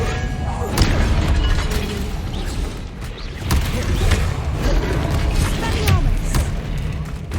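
Spell blasts from Hogwarts Legacy gameplay on PS5: repeated booming, crashing impacts with thuds and shattering debris, loud and dense across the whole stretch, with no talk.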